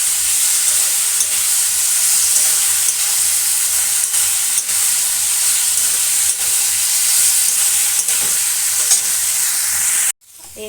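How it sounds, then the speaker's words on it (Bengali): A pan of fried vegetables and spices being stirred, a loud continuous sizzle with regular scraping strokes across roughly ten seconds, ending in a sudden drop to a quieter hiss. "ভালো করে নাড়াচাড়া করে নেব যাতে কাঁচা মশলার গন্ধটা চলে যায়"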